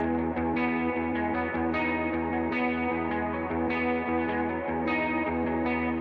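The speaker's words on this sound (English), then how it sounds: "I like the guitar. It's super mellow. There's a really cool reverb and ambience effects on it." Mellow electric guitar in a song, heavily washed in reverb and ambient effects, with sustained chords and gentle plucked accents ringing steadily throughout.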